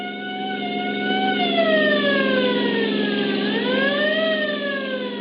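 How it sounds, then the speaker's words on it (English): A sheriff's car siren in an old-time radio drama wails continuously with rising and falling pitch sweeps, loud and close, set against a driving rainstorm at night. "The scream of a siren knifed through the din of a driving rainstorm as Deputy Sheriff Douglas Webb and Grover Mu"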